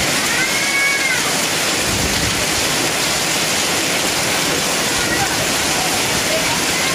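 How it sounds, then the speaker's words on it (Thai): Hail pours down in a heavy rainstorm over a market in Sung Noen, Thailand, a dense, constant roar of hissing impacts that never lets up. "ลูกเห็บตกนะครับ"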